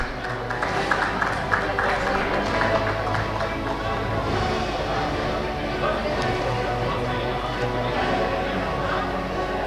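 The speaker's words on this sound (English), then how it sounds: "Can we please have a big round of applause, everyone?" Steady audience applause fills a summit hall, a dense, even patter of many hands with crowd murmur mixed in, moderately loud throughout.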